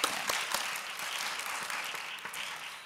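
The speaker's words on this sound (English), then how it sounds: "So let's give all of those people a round of applause." Steady applause from an audience at a candlelit Advent gathering, moderately distant clapping that continues evenly without voices.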